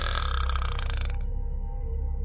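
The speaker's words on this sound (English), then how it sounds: "It was a burp." A single low, drawn-out burp sounds close by, then cuts off abruptly into a quieter, fainter tail.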